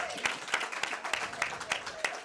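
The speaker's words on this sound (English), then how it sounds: "Give a nice round of applause for Mia Jenkins." A small group claps for ROTC member Mia Jenkins at a Pineville high school football event, with distinct, fairly close claps in a loose rhythm under a few faint voices.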